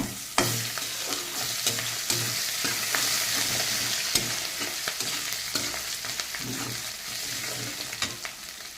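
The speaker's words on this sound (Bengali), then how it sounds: "এখন আমি পেঁয়াজ কুচিটা দিয়ে দেবো এর ভিতরে।" Chopped onion fries in hot oil with cumin and ginger paste, giving a steady close sizzle broken by repeated spoon-scraping stirs against the pan.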